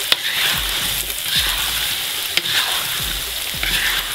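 Potatoes fry in a pan with a continuous sizzle, broken by several soft thumps and scrapes as a spatula stirs them at a slow, irregular pace. No one talks.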